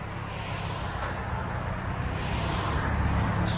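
A supercharged 2003 MINI Cooper S with a Scorpion axle-back exhaust gives a steady, dense, low exhaust drone at close range, with no clear revving and no voices.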